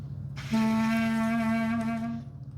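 A single sustained clarinet note, a C, steady and clear, held for about two seconds before fading out.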